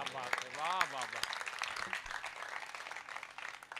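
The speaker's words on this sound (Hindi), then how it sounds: "माफ कीजिएगा, तालियां थोड़ी कमजोर रह गई, एक अवसर और देता हूं आपको।" Audience applause at a Hindi poetry recital (kavi sammelan), a scattered, fairly faint patter of clapping that follows a man's amplified speech and fades in and out.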